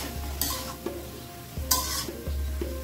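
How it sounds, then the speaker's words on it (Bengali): Vegetables stir-fried in a pan sizzle steadily up close while a utensil scrapes and knocks against the pan in a few brief strokes. "এখন সবজিগুলো ভালোভাবে কষিয়ে তারপরে আমি জল দিব"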